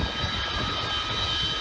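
Avro Vulcan XH558 bomber flying overhead at the RIAT airshow, a loud continuous jet engine roar with a steady high whine, heard alone without talk.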